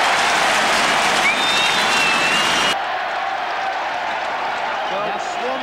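Crowd noise at an Australian rules football match, 1987, Swans game: a loud, dense roar of cheering and applause fills the first half, then drops abruptly to a lower, steady crowd murmur with commentary talk over it.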